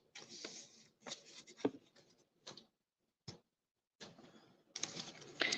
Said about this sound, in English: You'll have to put up with me fussy cutting.